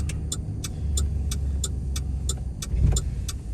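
A car drives through downtown Hattiesburg, Mississippi, heard from inside as a steady engine and road rumble with a regular ticking, likely a turn signal.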